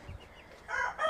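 Chickens and a rooster in a coop, a faint low cluck followed by two short nasal hen calls close by, brief and quiet over near silence.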